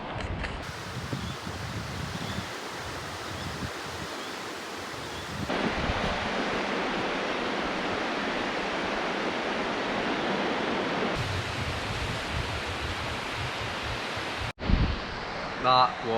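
Sea surf rolls onto a beach on the Gower Peninsula as a steady broadband wash, close and continuous, with a short jolt of handling noise near the end.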